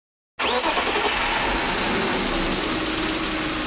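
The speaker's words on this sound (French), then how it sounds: "je vais démarrer la voiture pour voir si le code défaut revient" A BMW's engine cranks and catches after a brief silence, then settles into a loud, steady idle close by, on a car with a suspected camshaft position sensor fault causing power loss.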